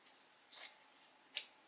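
Scissors snip fabric for a work apron, giving two quiet, crisp cuts about a second apart in an otherwise hushed room.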